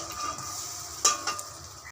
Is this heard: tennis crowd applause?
no